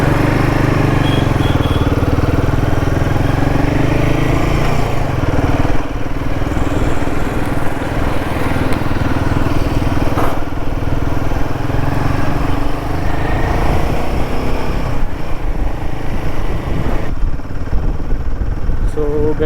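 Royal Enfield Himalayan 450 motorcycle on a test ride, its engine running steadily and loud close by with a low throbbing hum and rushing wind, while a rider talks over it.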